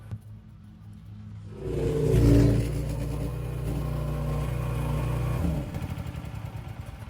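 A small mini excavator's engine labours up a steep little hill, a low steady drone that swells loudly early on, holds a heavy rumble, then drops away near the end.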